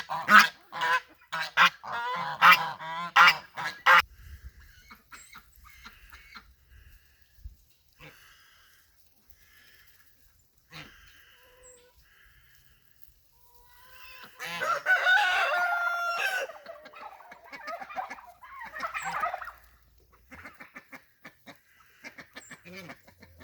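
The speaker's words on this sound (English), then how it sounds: "the girl ducks are certainly louder and more vocal than the boys have been" Newly added hen ducks in a backyard poultry flock quack loudly in two noisy bursts of rapid calls, separated by a long quiet stretch with only scattered faint sounds.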